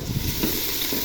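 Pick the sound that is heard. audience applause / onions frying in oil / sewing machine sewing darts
onions frying in oil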